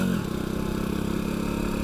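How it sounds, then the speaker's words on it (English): A Honda Cub 110cc motorcycle with an aftermarket Japanese exhaust rumbles steadily nearby on a mountain route in Korea, a low, even idle-like throb with a fast regular pulse throughout. "the rumble of my little Honda Cub."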